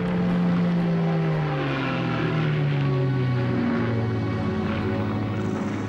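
A WWII RAF reconnaissance propeller aircraft over the Alamein desert drones loudly and continuously, its engine pitch sliding downward as it passes overhead.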